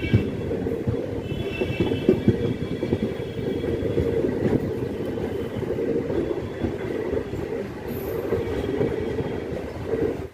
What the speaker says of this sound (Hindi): पैंतीस किलोमीटर की जर्नी करने के बाद अभी अपनी ट्रेन पहुंची है शीतलपुर